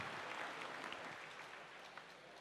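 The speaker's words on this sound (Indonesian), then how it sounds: "kita berikan aplaus" An audience applauding at a university question-and-answer session: dense, steady clapping from many hands that fills the room and fades slightly toward the end.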